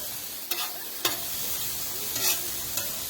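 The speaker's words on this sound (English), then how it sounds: "Jeff, I'm cooking up some steak and mushrooms and onions, bro." Steak, mushrooms and onions sizzle on a Blackstone griddle in a constant bright hiss, broken by several sharp scrapes and taps of a spatula stirring the food.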